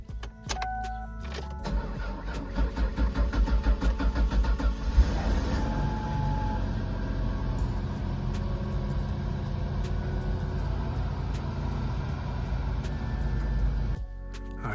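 A Ford Taurus wagon, barely running and boosted by a jump pack, cranks with a rapid rhythmic churn for a few seconds before catching and settling into a rough, rumbling idle heard up close.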